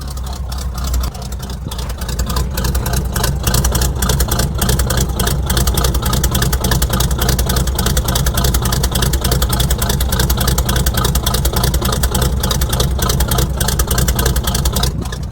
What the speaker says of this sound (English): You guys didn't get a good cold start before